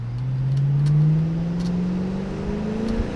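A car engine passed off as a BMW M5, with a resonator-delete exhaust, pulls steadily under acceleration, its droning tone climbing in pitch, briefly dipping at a gear change, then rising again, close and loud.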